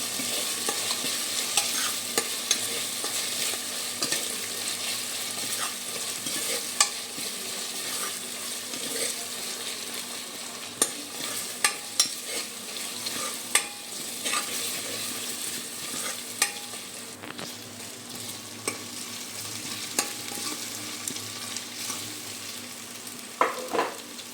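Onions sauté in a hot pan with a steady, dense sizzle that runs throughout, broken by scattered sharp clicks and scrapes of stirring, close up and with no talking.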